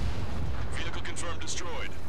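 Heavy booming explosion destroying a ground vehicle in the combat flight game Ace Combat 7, a loud sustained rumbling blast with crackling bursts on top, continuous for the whole moment.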